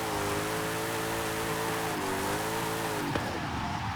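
A powerful car in Forza Horizon 5, rear wheels spinning, engine roaring steadily with layered harmonics, then a sharp tire squeal and a sudden drop in revs near the end as it slides and catches itself.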